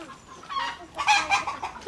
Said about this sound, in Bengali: দেখো আমার বাড়িতে কি রকম দেশি মোরগ